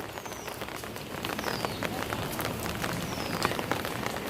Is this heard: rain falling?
yes